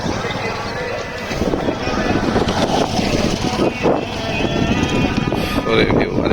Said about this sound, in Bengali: বাতাস